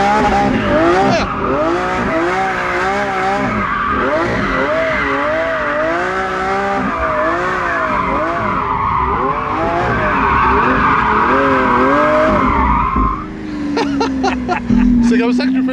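A car drifts around a supermarket parking lot with loud, sustained tire squeal that rises and falls as it slides, over engine noise. People talk and exclaim over the skidding.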